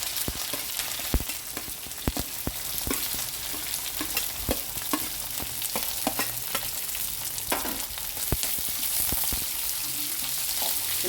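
Onions frying in a pan after a little urad dal and chana dal, stirred with sharp spoon scrapes and clinks over a steady close sizzle, with no talking.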